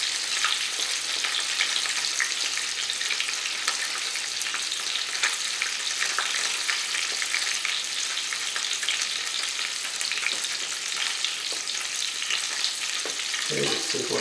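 Country fried steak sizzles steadily in a hot pan of oil, a dense, continuous crackle with scattered pops held close and loud throughout, with no talking over it.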